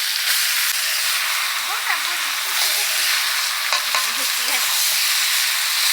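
Fried potatoes go into mutton curry cooking over a wood fire, and the pot sizzles and hisses steadily, with faint voices and some clatter in the background.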